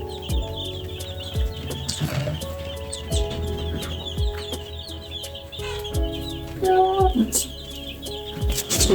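Young broiler chicks in their pen cluck and chirp continuously, a busy flock close by with overlapping peeps and soft calls over a steady background hum.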